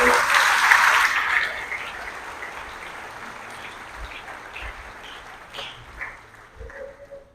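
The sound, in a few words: congregation applauding at Mass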